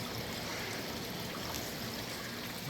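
Creek water trickles steadily beneath a thick growth of dog fennel in a garden, a constant soft broadband wash with no voices.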